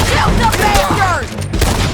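Gunfire in Red Dead Redemption 2 during a shootout, a loud burst of rapid shots and booms crowding together close up, with voices shouting over the firing.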